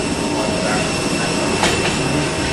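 A train rumbles past close by, with a steady loud roar of rolling wheels and a brief metallic squeal partway through.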